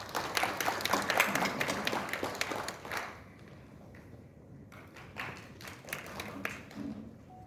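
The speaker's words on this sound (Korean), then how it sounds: "우리 조 대표님께 큰 박수 부탁드립니다" Applause for a speaker at a Korean anniversary award and scholarship ceremony, a dense burst of clapping for about three seconds that drops away, then thinner scattered claps return.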